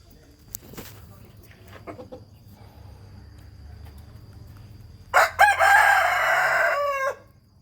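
Burmese fighting-breed gamecock roosters crowing, one loud close crow with a sustained harmonic call lasting about two seconds near the end, after faint scattered calls and clucks in a quiet yard.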